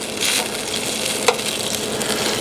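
A spoon stirs vegetable paste into a velouté sauce in a pan, giving a soft, continuous sizzling wash with one sharp tap of the spoon partway through.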